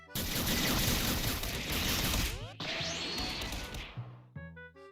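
A Roblox Rider Blox Blast Mode shot plays as a loud, dense burst of crashing, blasting game effects that cuts off abruptly midway. Whooshing tones and a brief electronic jingle follow.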